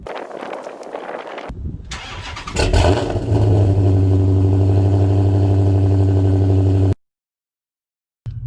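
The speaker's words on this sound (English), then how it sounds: "I took this green Challenger SRT8 for the weekend and I thought you'd like to hear how it sounds on a cold" A 2011 Dodge Challenger SRT8 V8 with open exhaust cold-starts: a brief crank, then a loud, close bark that settles into a heavy, rumbling high idle held steady for several seconds before cutting off abruptly.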